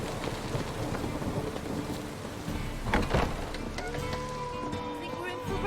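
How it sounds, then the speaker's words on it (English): Steady video game rain pours down while a low rumble of thunder swells in the middle, with faint musical tones drifting in near the end. "I think we're in for rain."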